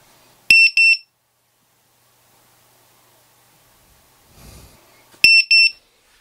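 ViFind 2 lost drone beeper sounding two loud, sharp, high-pitched double beeps several seconds apart, with a faint rustle in between and near silence otherwise.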